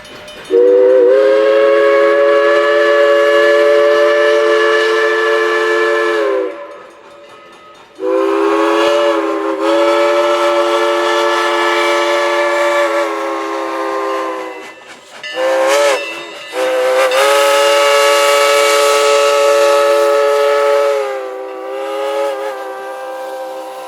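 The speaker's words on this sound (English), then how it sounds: "we were still able to get a decent view of the train as it passed." Southern Railway 154, a steam locomotive, sounds its whistle in long, loud, chime-like blasts, roughly three sustained calls broken by short gaps as the train passes nearby outdoors, with no talking.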